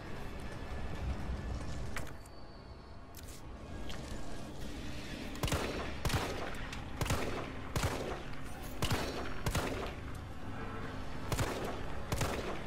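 Gunfire in the Resident Evil 3 Remake video game: a string of sharp, loud shots fired one by one at an irregular pace over a steady background bed, with no talking.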